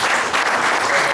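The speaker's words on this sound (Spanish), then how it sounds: "Vamos a dar un aplauso por la familia Muñoz al Señor Jesús." A church congregation breaks into brief, vigorous applause, a dense burst of many hands clapping close and loud, with no speech over it.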